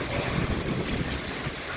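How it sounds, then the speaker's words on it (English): Strong wind gusts during a severe thunderstorm in Maricopa, roaring as a loud, continuous broadband rush close to the microphone with no break. "These gusts are crazy."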